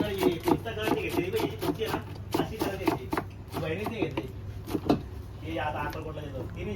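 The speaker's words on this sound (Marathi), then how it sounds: "आता घेतले कोथमीरचा मारा करायला मस्त की चरा चरा चरा कापतो." A bhel vendor's knife chops fresh coriander on a board at a street stall in Shirdi, India, making rapid rhythmic taps. Someone talks over the chopping.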